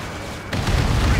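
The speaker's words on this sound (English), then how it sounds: "That was a big explosion." A big explosion in Ace Combat 7 on PC booms in abruptly as a loud, heavy low rumble that keeps swelling over the steady game noise.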